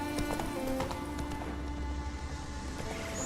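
Roach, the horse in The Witcher 3 on Skellige, gallops with a steady rapid clip-clop of hooves, loud and close, under a layer of in-game ambience and music.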